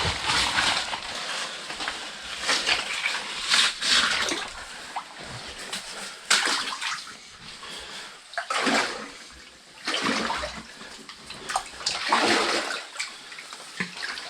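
Someone wades through knee-deep water inside an abandoned lead mine, making repeated sloshing surges and splashes in uneven bursts, close by and echoing, with no voices.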